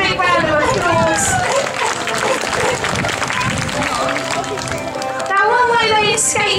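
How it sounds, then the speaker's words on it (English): An audience at a zoo sea lion show applauds in a dense, loud burst of clapping, mixed with crowd chatter and a presenter's voice over it. "Give yourselves a big round of applause."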